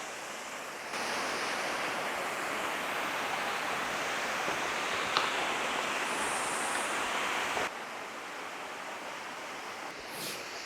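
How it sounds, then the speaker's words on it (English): The Crystal Cascades waterfall near Tuckerman Ravine on Mt Washington, New Hampshire, in winter, rushes as a loud steady broadband roar heard up close, with some wind buffeting against the microphone. "we're at a pretty cool waterfall here. Crystal Cascades, I believe it's called"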